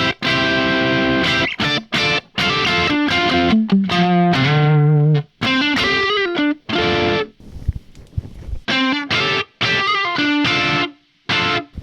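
Electric guitar playing higher lead notes through a Kemper British amp profile, distorted and sustained, with bends and vibrato in phrases separated by short pauses, close and loud with no talking.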